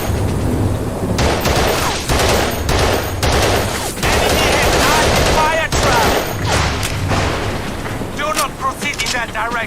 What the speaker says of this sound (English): We are halted by enemy fire!